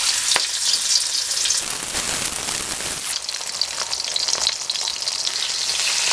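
Tilapia pieces coated in turmeric and salt sizzle in hot oil in a wok, a loud steady crackling hiss with a brief surge as more pieces go in.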